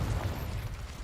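Confringo blasting spell exploding in the video game Hogwarts Legacy, a short muffled boom with a low rumbling tail that fades within a second.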